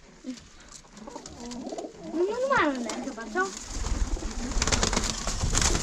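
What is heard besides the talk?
pigeons cooing in a loft with aviary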